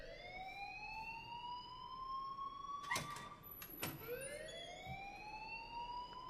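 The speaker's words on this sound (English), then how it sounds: "please turn off that alarm since that's your job" A wailing alarm in the Life is Strange video game, a siren-like tone that rises and falls in steady sweeps, fairly quiet, with two sharp knocks or door bangs cutting in midway.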